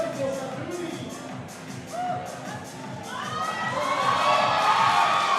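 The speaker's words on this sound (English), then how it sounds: "listen to the support from the crowd" At a weightlifting competition, the crowd in the hall builds from scattered shouts and murmurs into loud, sustained cheering and whooping, with excited voices rising over the last few seconds.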